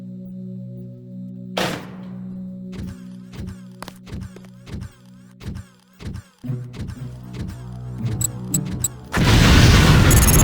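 Explosive lamps detonating in the video game Deus Ex during demolitions training: one sharp booming blast, followed by a run of rhythmic thuds and clatter and then a loud, sustained roaring burst at the end, over a steady low musical drone.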